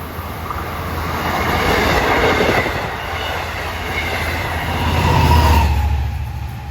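A Long Island Rail Road M9 commuter train arriving at Forest Hills station, rumbling past with a steady low roar, rising and falling in waves, with rail clatter and faint wheel squeal.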